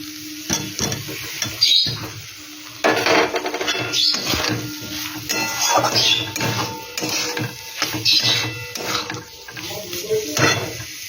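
Potatoes go into a frying spice paste and are stirred, a close sizzle broken by repeated scraping and clattering of a spoon against the pot, with some speech in places.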